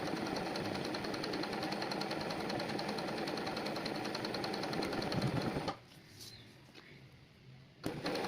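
An embroidery sewing machine stitches steadily in a fast, even mechanical rhythm, loud and close, for about six seconds before stopping abruptly, leaving quiet room tone with a brief clack near the end.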